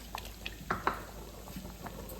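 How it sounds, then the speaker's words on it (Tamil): Water splashes and bubbles into a cooking pot of sambar with cooked dal, a short burst of liquid sloshing at close range. "தேவையான அளவு தண்ணி ஊற்றி"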